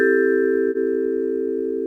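A vibraphone rings with its sustain pedal held down, producing clear metallic tones that hold steadily and sound close and alone.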